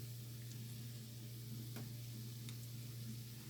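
Salmon patties frying in oil, a steady, quiet sizzle with soft crackles and a constant low hum underneath, no voices.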